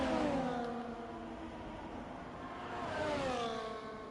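A racing car engine in a racing video game sweeps past on the Canadian GP circuit near the final hairpin, its pitch sliding down then climbing again as it revs, steady and fairly close with no talk.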